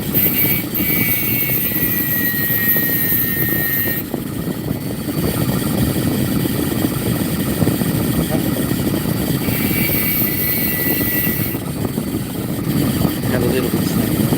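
Dremel blade cutting Kiddy opal, a steady high whining buzz running continuously with a constant grinding rumble underneath, close and loud throughout.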